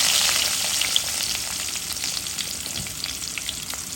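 Onions fry in oil with a loud, continuous close-up sizzle and crackle that holds steady throughout, with no voices over it.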